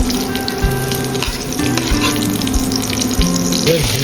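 Chopped onion and garlic sizzle loudly in hot oil in a pan, a steady close frying hiss with occasional stirring clinks and scrapes.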